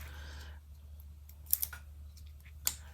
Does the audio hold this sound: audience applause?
no